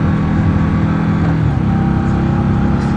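A 2015 Indian Scout motorcycle engine drones loud and close while riding, with a brief change in pitch around a gear shift midway and steady wind rush throughout, no talk over it.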